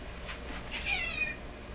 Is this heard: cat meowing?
yes